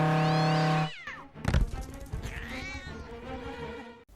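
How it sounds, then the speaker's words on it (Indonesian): A large pet cat gives a long, loud, tonal meow, then a thump and scuffling follow as it chases, ending with further drawn-out wavering cat cries close by. "Yang terjadi akhirnya dia lari dikejar kucing jumbo"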